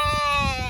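A single drawn-out sheep bleat, close and loud, wavering slightly before cutting off.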